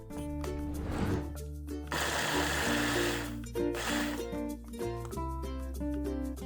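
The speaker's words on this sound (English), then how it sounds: "Next, chop 1 medium onion in the chopper." An onion is chopped in a food chopper, with a couple of loud whirring motor bursts rising over continuous background music.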